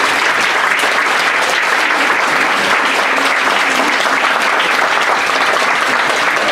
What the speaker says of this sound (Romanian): să-i aplaudăm încă o dată